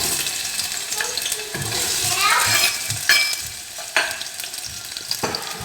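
Thinly sliced long onions fry in a hot pan for an egg fry dish, giving a steady close sizzle broken by several sharp stirring scrapes and clicks, with no voices.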